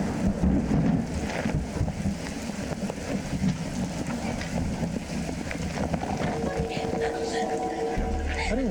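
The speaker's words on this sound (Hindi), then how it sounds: "अरे उषा जी, आप बारिश छतरी के नीचे आ जाइए।" Steady rain patters over a broad noisy wash, with voices talking over it and a low rumble near the end.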